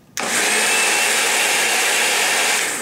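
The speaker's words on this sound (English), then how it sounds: "it's a blender" A kitchen blender switches on abruptly and runs at a steady, loud whirring roar for a few seconds with no voices.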